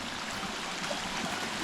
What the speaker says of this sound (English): And another little creek crossing